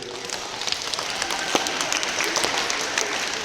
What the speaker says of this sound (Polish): naprawdę wielkie brawa dla tych naszych czterech uczniów